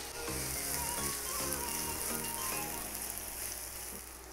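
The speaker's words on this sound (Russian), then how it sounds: "Теперь отправляем в сковороду лук и пассируем примерно 2-3 минуты." Onions sizzle and crackle in hot olive oil, a steady hiss with faint music underneath.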